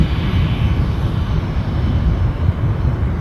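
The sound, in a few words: airliner in Star Alliance livery at Düsseldorf airport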